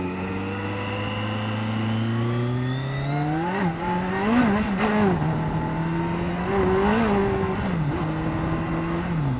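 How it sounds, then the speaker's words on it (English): Kawasaki GTR1400 motorcycle engine revving hard as the rear wheel spins on a wet road, the pitch sweeping up, dipping and climbing again in several surges, loud and close throughout. "when you cross, you get a lot of wheel spin."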